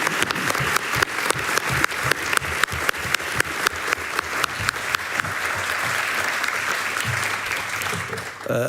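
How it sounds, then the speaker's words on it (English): Hall audience welcoming a guest speaker with warm applause. Sharp rhythmic claps sound first and then build into steady, dense clapping that carries on for several seconds before fading, with no talking over it. "Give him a warm applause."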